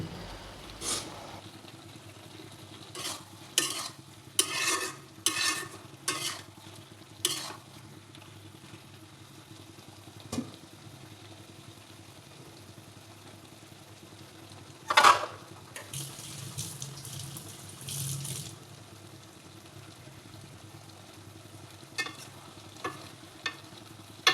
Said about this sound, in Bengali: এরপরে আবার ভালোভাবে নেড়ে নেওয়া লাগবে।